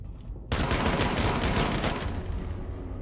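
Rainbow Six Siege gunfire starts suddenly after a brief lull and becomes a dense, rapid automatic volley that continues loud and close until the end.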